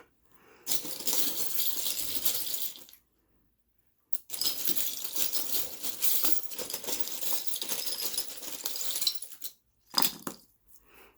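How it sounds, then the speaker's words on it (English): Small charms thrown for a fortune reading, several bursts of clattering and rattling as the pieces tumble and settle, close and crisp, separated by short silences, with no talking. "So let's throw a few charms and see what more we can get from this."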